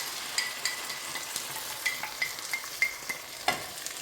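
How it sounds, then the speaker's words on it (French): Chili con carne with tomato purée being stirred in a pan, a faint steady sizzle beneath a series of light scraping strokes spaced roughly every half second, no voices. "On mélange bien."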